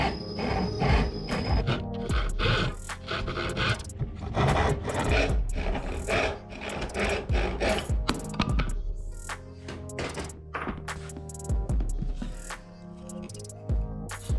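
A metal Batman batarang piece is cut out by hand with rough, rhythmic rasping strokes that repeat steadily and loudly, close up, with some scraping and knocks between the strokes.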